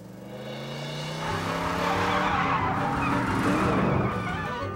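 A remote-controlled rally car built for racing drives hard with a steady, rising motor whine and tire noise, loud and continuous throughout with no talking.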